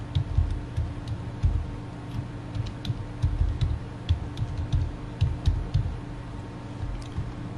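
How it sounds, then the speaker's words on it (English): Someone types on a computer keyboard, an irregular run of close clicking keystrokes with small bursts and pauses, steady throughout with a faint hum underneath and no talking. "press enter key on the keyboard"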